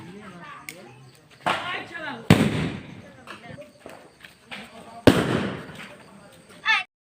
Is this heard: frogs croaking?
no